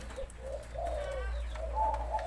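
A large dove coos in a clear, mellow series of repeated rounded notes, fairly close, over a low steady background hum.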